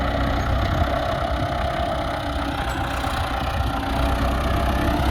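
A tractor working a field to gather dried vines rumbles steadily nearby, its engine holding an even, loud drone throughout.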